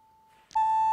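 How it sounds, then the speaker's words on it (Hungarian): A pure, steady 880 Hz electronic sine test tone sounds faintly, then jumps to a much louder sustained beep for the second half. "És most akkor hallhatóan szól itt ez a másodpercenként 880-szor rezdülő hang."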